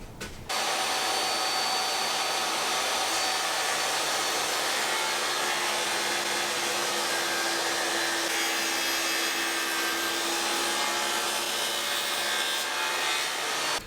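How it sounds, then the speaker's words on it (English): A power tool cuts a dado into a shelf board for a laundry room, a loud, steady, close-up roar of blade on wood that runs without a break for about thirteen seconds, with no talking. "I'm going to cut the dado for the bottom shelf, and then for the sides, for the back."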